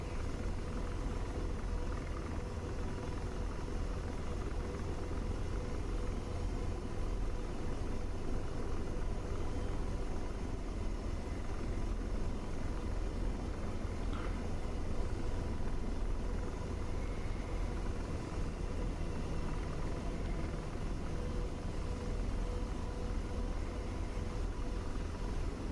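Steady, droning rotor and turbine rumble from a simulated helicopter hovering in a flight simulator game, continuous and unchanging throughout with no talking.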